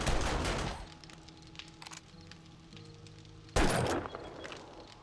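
Automated turrets fire bursts of gunfire in 7 Days to Die, a loud clattering volley at the start that fades under a quieter stretch, then another sharp burst erupts near the end.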